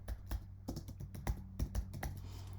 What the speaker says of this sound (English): we're going to click add new and we're going to type something in